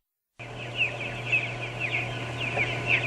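Chickens in a crowded, densely stocked poultry house give repeated clucks and calls over a steady low hum, moderately loud and close.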